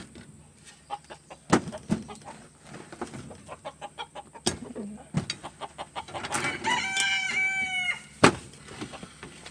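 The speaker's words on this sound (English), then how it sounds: "especially the bantam ones, bantam chicks" Bantam chickens and a rooster cluck and chatter steadily inside a backyard coop, and partway through the rooster lets out a loud, clear crow that rises above the flock.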